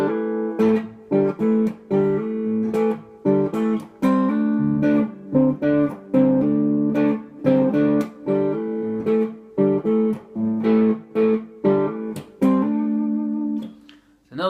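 An electric guitar plays the fourths-based riff of a song, with rhythmic choppy chords and repeated stabs, steady and fairly loud throughout with no talking.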